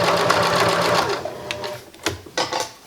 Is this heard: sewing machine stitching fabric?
yes